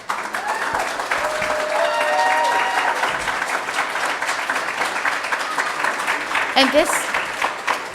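An audience claps in sustained applause at a 2017 Holyoke mayoral candidates forum, a dense, steady wash of hands that holds for several seconds, with a voice briefly speaking near the end.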